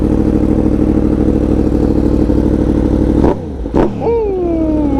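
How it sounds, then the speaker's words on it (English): A sport motorcycle's exhaust, a 2020 Yamaha R1 or 2016 Aprilia RSV4, held at a loud steady high-rev roar, then cut off and blipped once more before settling into a lower falling idle burble. "I wanna compare the sound of your exhaust to mine."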